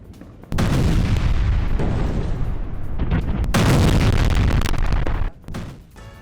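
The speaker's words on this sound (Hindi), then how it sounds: "बेरूत के दाहिया में आईडीएफ की बमबारी, हिजबुल्लाह के ठिकानों पर बमबारी की गई।" IDF bombing strikes Hezbollah sites in Beirut's Dahiya. Heavy, rumbling explosions erupt suddenly and roll on loudly for several seconds before fading into a quieter aftermath.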